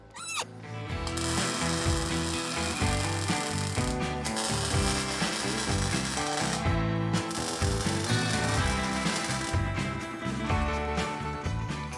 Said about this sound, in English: In order to measure the bike's compression, we have to remove the spark plug